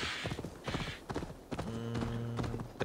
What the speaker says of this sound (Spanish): Vamos a pedir un caballo